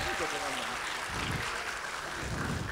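An audience at a school event applauds in a continuous dense wash of clapping that fills the room. The clapping is loud and unbroken, and a voice briefly talks over the start.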